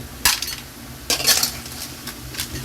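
A serving spoon scrapes and clinks against a pan and bowl as stir-fried clams with basil are scooped out, several sharp metallic clatters spaced irregularly over a low background.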